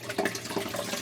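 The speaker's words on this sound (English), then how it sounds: "as the water comes through the egg crate grid and then spills over the return compartment" Aquarium water in a jellyfish tank pours through an egg crate grid and spills over into the return compartment, a steady close trickling and splashing with no talk.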